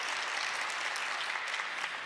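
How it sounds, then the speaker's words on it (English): A crowd claps steadily at a ceasefire rally, dense and sustained applause filling the whole stretch without pause. "Let's go ahead and give them a big round of applause."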